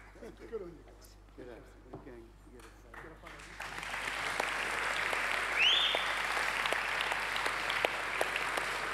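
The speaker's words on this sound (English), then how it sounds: "keep that round of applause going a little bit louder for Nick McKenzie and Dr. Chris Masters" Applause from an audience at the Walkley media freedom honour for journalists Nick McKenzie and Chris Masters rises and swells into steady, fairly distant clapping that builds louder and holds, following a stretch where a voice talks over a quieter room.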